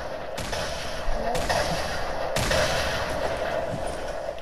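Grenade launcher fire in Fortnite: three sharp, loud launches spaced about a second apart over a steady wash of game noise and faint voices.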